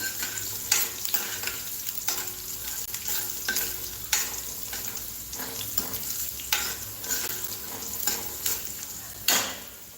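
Potatoes and chillies roasting in a pan, with a steady close sizzle and repeated spatula scrapes in an uneven stirring rhythm throughout.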